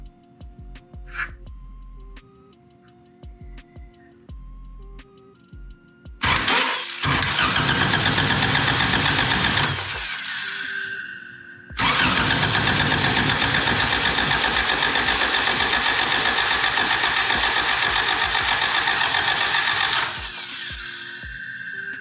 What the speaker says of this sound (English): So for right now, I'm just going to jump the starter terminal so we get to crank.